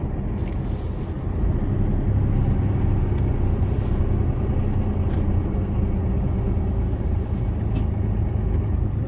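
Heavy low engine rumble inside the cab of a new Mercedes Actros HGV truck pulling away on a UK road near a roundabout, steady and loud with a few brief hissy bursts like air brakes.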